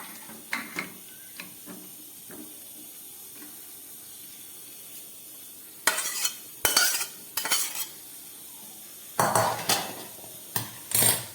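Pots, a pan and a lid clink and clatter in a home kitchen as a yogurt chicken curry is covered after cooking, with sparse light knocks followed by several louder, close metallic bursts.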